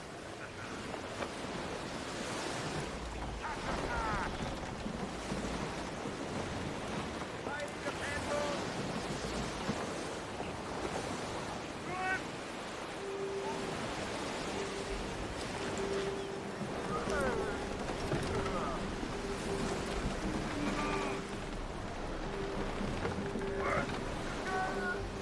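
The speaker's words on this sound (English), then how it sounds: "There's a strong wind now." Strong wind and ocean waves at sea in Assassin's Creed Black Flag, a steady broad rush of wind and surf with creaking and occasional tonal game sounds layered on top, continuous and fairly loud throughout.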